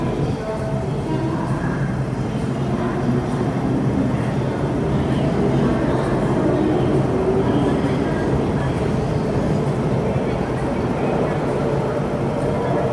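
An MTR M-train rolls through Tai Koo Station on Hong Kong's underground metro, a loud, steady, broadband rumble that fills the platform continuously and does not let up, with faint voices now and then.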